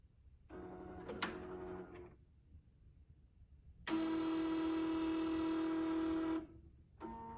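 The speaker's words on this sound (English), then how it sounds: "Once you hit OK, you'll notice a sound coming from your motor plate. The motor plate is checking the gears" A QuiltMotion quilting machine's motor plate whirs through its gear and belt check in two mechanical bursts, a shorter one and then a longer, louder steady drone that cuts off abruptly, with a brief restart at the end; no talking.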